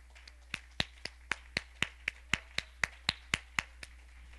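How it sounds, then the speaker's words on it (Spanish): Rhythmic unison clapping from a church congregation, about two claps per second, steady and fairly sharp, with no voices over it. "¿Cuántos pueden darle un aplauso al Señor?"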